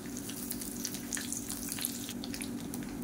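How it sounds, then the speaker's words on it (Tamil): Mustard seeds and urad dal crackle in hot oil in a pan, a steady sizzle dotted with quick sharp pops throughout, close and fairly quiet. "கடுகு உளுந்து பொரியுது, கருவேப்பிலை சேர்த்துக்கலாம்."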